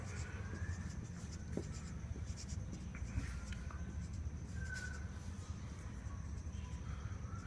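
Handwriting letters with a pen on paper during an Urdu lesson, a soft, continuous scratching with faint strokes, close but quiet over a low background hum, with no speech.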